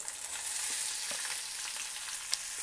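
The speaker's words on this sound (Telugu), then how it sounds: "ఈ ఉల్లిపాయలు మెత్తగా అవ్వాలి, ఎర్రగా వేగకూడదు, మెత్తబడాలి. అంతే, మెత్తబడే వరకు వేయించుకోవాలి." Chopped onion and chana dal frying in a pan for a tiffin-centre-style chutney, a soft continuous sizzle with a few faint stirring clicks and no speech.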